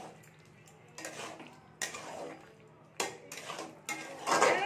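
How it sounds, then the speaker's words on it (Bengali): Pumpkin curry stirred in a metal pot with a spoon, then a lid set over it: a series of close scraping clinks and clattering knocks in uneven bursts, the loudest clatter at the end. "ঘেঁটে নিয়েছি, ঘেঁটে আমি ঢাকা দিয়ে দিচ্ছি এটাকে"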